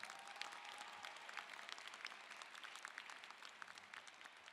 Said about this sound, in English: Another round of applause for Tristan.